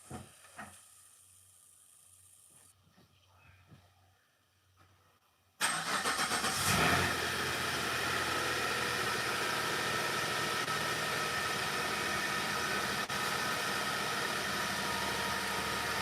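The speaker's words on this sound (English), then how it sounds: "Let's see if the car starts." A car engine cranks and catches after a few seconds of quiet rustling, then settles into a loud, steady idle that runs without a break to the end.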